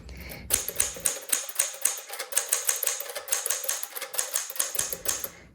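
A 1964 Sterling manual typewriter clacks close-up in a quick, steady run of keystrokes, each strike crisp and evenly spaced, with nothing else heard.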